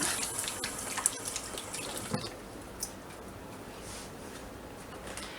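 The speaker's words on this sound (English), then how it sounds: "rinse my hands off a little bit" Water from a tap running over hands being rinsed, a soft steady splashing with a few faint drips and clinks, fairly quiet and tapering off.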